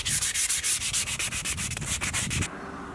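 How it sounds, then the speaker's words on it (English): The frame of a 1936 Harley-Davidson motorcycle is sanded by hand, making loud, close, rhythmic back-and-forth rasping strokes about five per second that stop abruptly before the end. "Getting the frame sanded for the 36 Harley"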